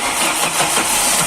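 A Chevrolet Astra 2.0 engine with a newly fitted accessory belt cranks and catches, a broad, loud mechanical roar close by with no belt squeal standing out.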